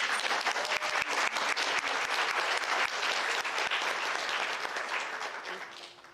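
At a Christian school awards chapel, the audience claps for an honor roll student: loud, dense applause from many hands, steady throughout and fading slightly at the close.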